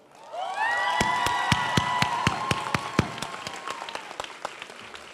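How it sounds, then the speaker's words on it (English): At a community college nursing pinning ceremony, an audience applauds a retiring nursing professor. Crisp, distinct claps ring out over sustained musical tones, swelling quickly and then thinning to scattered claps. "give a warm round of applause to one of our faculty who is retiring this year"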